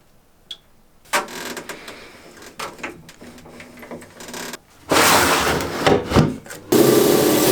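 A saw cutting through a piece of jasper stone, with bursts of loud grinding and rasping separated by quieter stretches and handling noises, growing harsher toward the end.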